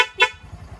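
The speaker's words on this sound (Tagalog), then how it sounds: "stock horn with passing" Stock horn on a small Honda XRM or Wave-type underbone motorcycle with a power-upline wiring setup, giving two short close honks, a brief blast then a second shorter toot, followed by quiet engine idle.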